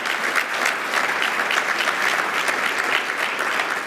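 At an education awards event, a crowd claps steadily and fairly loudly throughout, a dense continuous patter of many hands.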